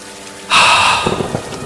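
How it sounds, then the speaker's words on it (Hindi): Heavy rain in a cartoon village story bursts in suddenly as a loud, steady hiss of downpour that keeps going after the onset, with no one talking. "इतनी बारिश तो अब मुसीबत बनती जा रही है"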